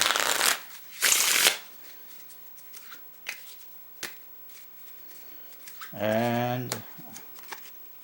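A Federal 52 playing card deck is shuffled close by, with two loud riffling bursts near the start and a few lighter card taps, followed by a brief spoken word.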